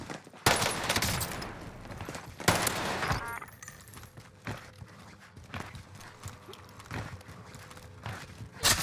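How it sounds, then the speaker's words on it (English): Gunfire in the Warzone video game on Rebirth Island, bursts of rapid shots and sharp cracks scattered through the clip, some loud and close, others fainter, with no talk over them. "where's this guy being shot from?"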